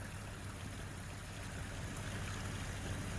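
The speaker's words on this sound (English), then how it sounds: "This little spring right here, coming out of the side of the mountain." A small mountain spring running out of a hillside in the North Georgia mountains, a steady close trickling, gurgling water flow that holds constant and fairly soft throughout, with no voices.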